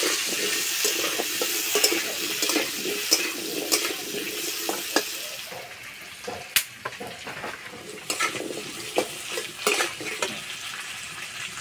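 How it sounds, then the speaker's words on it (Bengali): Potato pieces frying in hot oil in a home kitchen, a constant crackling sizzle broken by several sharp scrapes and knocks of stirring, the hiss thinning partway through as the pan is worked. "এই তেলে আলু ভেজে নেব।"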